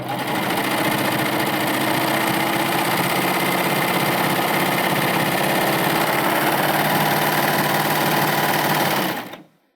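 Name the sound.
Baby Lock Euphoria serger stitching swimwear fabric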